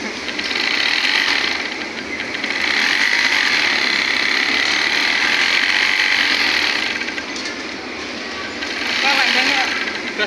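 A sewing machine runs in long bursts stitching belt loops for Levi's-style trousers through a funnel attachment, a steady close mechanical whir that rises and eases, with a voice talking nearby.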